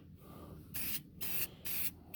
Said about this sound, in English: Spray those from all different angles.